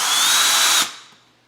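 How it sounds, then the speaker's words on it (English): A power drill whirs steadily for under a second while twisting wires gripped in needle nose pliers for heater filament circuits, then cuts off and winds down to silence. "turn on the drill"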